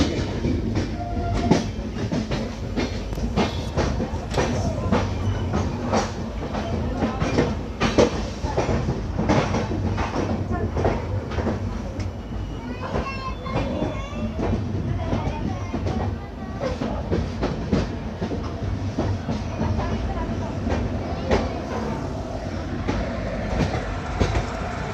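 The Jammu Mail passenger train runs steadily on the tracks near Ambala Cantt, with a continuous rumble and rhythmic clickety-clack of wheels over rail joints heard from on board.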